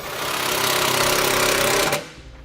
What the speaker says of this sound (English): we're going to run a self-tapper right here to give it a little more structural support